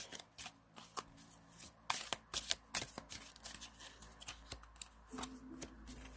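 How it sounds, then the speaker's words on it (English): Tarot cards are shuffled in quick bursts of crisp riffling and slapping, stopping and starting repeatedly, close by with no talking. "So the box makes so much noise, so I am trying to shuffle"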